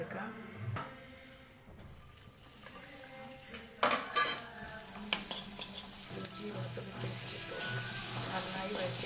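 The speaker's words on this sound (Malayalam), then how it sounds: "പച്ചമുളക് കറിവേപ്പില ഇഞ്ചി വെളുത്തുള്ളി പേസ്റ്റ് ഇതിനെ വാട്ടി" Green chilli, curry leaves and ginger-garlic paste sautéing in a pan for beetroot pickle, a soft sizzle that swells and grows steady after a few seconds, with spoon clatter against the pan, fairly quiet.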